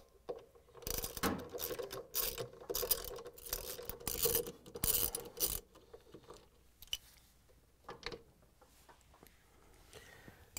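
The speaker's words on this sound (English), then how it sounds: "we're going to use the 5/16 inch socket with the ratchet and an extension to take off the bolts that hold the motor in" A hand ratchet with a 5/16 inch socket and extension turning out the drive motor bolts on a Frigidaire/Electrolux appliance, with rapid close clicking bursts and metallic rattles, then quieter intermittent clicks and handling noise.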